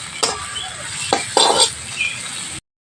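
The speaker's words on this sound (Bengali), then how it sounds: "গ্রেট করে রাখা আলু, আলুটা আমি সব কিছুর সাথে বেশ ভালো করে নাড়াচাড়া করে নেব" A utensil stirs grated potato into an egg filling mixture in a pan, a few soft scrapes and light clinks over a faint sizzle, close by, ending abruptly in silence.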